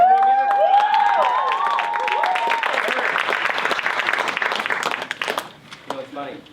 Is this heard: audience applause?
yes